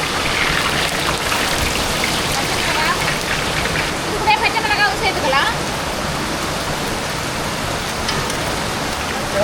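Heavy rain pounds down around an outdoor cooking fire where sambar simmers in a pot. The dense, continuous roar of the downpour fills everything, and a voice briefly sounds beneath it.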